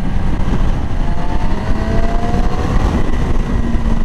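A 2020 Yamaha R6 sport bike being ridden, its engine a steady loud drone with rising tonal whine and constant wind rush, heard close and continuous with no talk.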